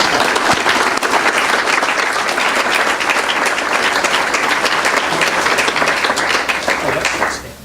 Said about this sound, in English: So please applaud one more time as we welcome Dr.